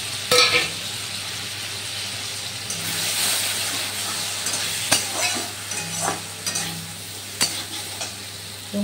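Spice paste sautéing in a pan, a moderate sizzle under sharp intermittent clinks and scrapes of a spatula against the metal, with brief pauses between strokes; no talking.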